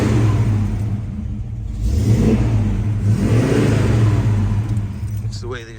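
A 1970 Chevrolet Chevelle SS L-78 with a 4-speed, unmodified, rumbles and revs steadily up and down in a loud, close, continuous engine roar, with a voice talking over it.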